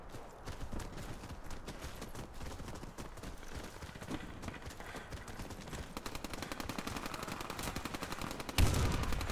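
Rapid video game gunfire rattles in dense, continuous bursts, steady and loud throughout, ending with a heavier thump.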